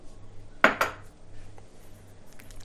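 A spoon clinks twice in a bowl as sugar goes into warm water for Turkish ačma buns, two sharp knocks in quick succession, then quiet kitchen background.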